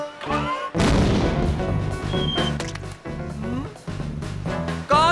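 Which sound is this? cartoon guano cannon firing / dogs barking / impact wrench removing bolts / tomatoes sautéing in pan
cartoon guano cannon firing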